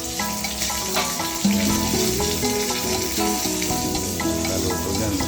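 Food frying in a small pan, giving a steady dense sizzle with some stirring, heard close and alone under light background music.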